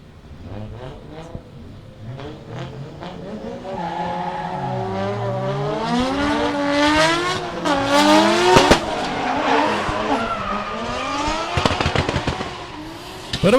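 Drift cars battling at Meremere Drift, engines screaming and revving hard with sustained tire squeal growing louder and rougher toward the middle, plus sharp pops and bangs, mostly free of talk.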